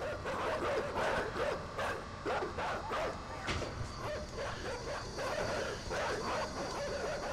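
Several dogs in the video game Inside bark and yip in rapid overlapping bursts, loud and close, with whimpers mixed in over a steady noisy background.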